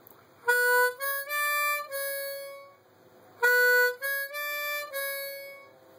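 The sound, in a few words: harmonica: 4 draw, 5 blow, draw, blow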